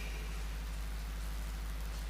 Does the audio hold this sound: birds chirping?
no